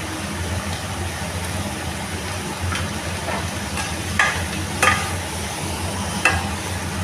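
Paneer fried rice seasoned with black pepper powder is stirred in a hot pan: a soft, steady sizzle under a few sharp clinks and scrapes of the spatula against the metal.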